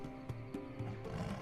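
A tiger roars in the video game Lost Horizon, a few rough, close growling bursts with a low rumbling body, repeating unevenly over a steady background bed.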